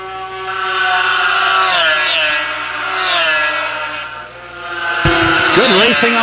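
Race cars in a Pro Lite qualifier on an oval track, engines droning steadily past with harmonic pitch shifts as they come through the turns, a sharper burst near the end, under continuous commentary.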